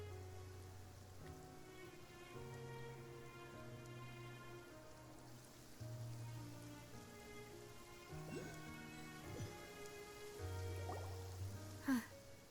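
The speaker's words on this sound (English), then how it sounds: "It's been raining non-stop for a few days now." Steady rain falls in a Genshin Impact scene, a soft, even patter heard faintly beneath a layered musical score, with a brief sharp accent near the end.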